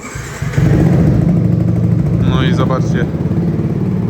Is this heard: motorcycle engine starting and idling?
yes